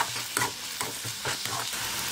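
Onions with curry leaves and salt sautéing in a pan, a loud close sizzle broken by repeated scraping stirs with no talking.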